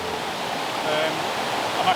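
A waterfall at Nant Mill in North Wales gives a steady, even rush of falling water that fills the whole moment without a break.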